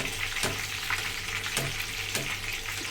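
Tilapia frying in hot cooking oil for a home dinner gives a steady, close sizzle and crackle, with a few louder spitting bursts spaced about a second apart.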